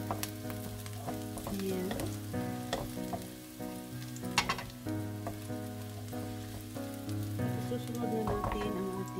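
Beef sizzling and frying steadily in olive oil in a pan for a Filipino beefsteak, with occasional clinks of a utensil against the pan; a voice speaks briefly.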